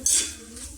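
Crisp homemade chips rattle and clink as they are stirred in a frying pan, one short close scrape-and-rattle burst over a faint background hum, no talking.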